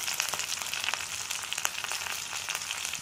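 Green chilies, cumin and onions sizzle in oil in a pan, a quiet but steady crackle with small pops and spits scattered through it, close by and alone.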